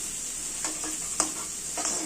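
Spice paste and gram flour for a fish roe dhoka being stirred in hot oil, a steady soft sizzle with a few scraping spoon strokes, close and alone.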